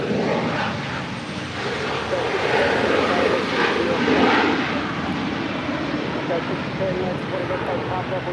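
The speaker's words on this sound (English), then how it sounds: "United Airlines 1616 coming in from Denver on a 6-year-old 737-900 ER" A six-year-old United Airlines Boeing 737-900ER arrives at LAX from Denver, its engines a loud, steady broadband roar that swells slightly midway, with no voices over it.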